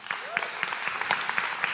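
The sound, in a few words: audience applause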